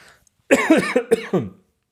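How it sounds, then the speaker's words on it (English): A few harsh coughs in quick succession, close and loud, then quiet. "This is not a corona cough."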